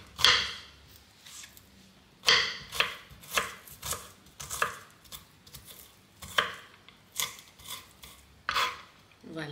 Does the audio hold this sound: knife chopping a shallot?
yes